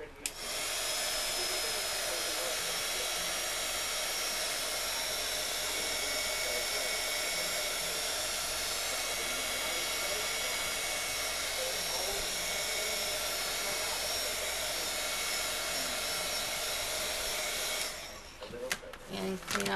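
A handheld heat tool blows steadily for about eighteen seconds while setting Glimmer Mist ink on a paper tag, a constant whirring hiss that cuts off near the end.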